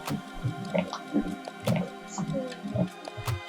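Water is stirred in a Magic Mixies toy cauldron, giving small irregular splashes, drips and clicks, close and fairly quiet, with no talking.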